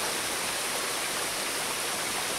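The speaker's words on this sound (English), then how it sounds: "Waterfall I've been wanting to come to a long time" Waterfall at Hickory Creek Falls trail, a loud, steady broadband rush of falling water filling the whole moment with no voices.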